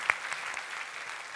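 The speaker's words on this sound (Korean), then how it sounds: "우리의 하나님 예수 그리스도께 박수로 영광을 돌려드립니다." A church congregation claps during a Sunday worship service, soft and slightly distant, with a couple of sharper individual claps early on and a steady light patter continuing after.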